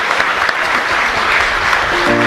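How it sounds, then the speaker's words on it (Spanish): A church congregation at a parish Mass applauds together. The loud, dense clapping is sustained and even, and a sung or instrumental tone begins faintly as it continues. "Un fuerte aplauso para toda la comunidad."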